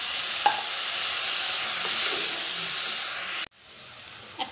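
Water poured into dried chilli powder and spices frying in a pan for a dried fish curry bursts into a loud, steady hissing sizzle with a faint early clink, then cuts off abruptly to quieter cooking noise.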